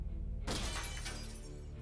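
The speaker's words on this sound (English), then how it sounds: "I was happy to hear the satisfying sound of shattering glass" A glass window shatters from a thrown brick: a sudden bright crash after a brief low rumble, followed by a tinkling spray of falling shards that fades out.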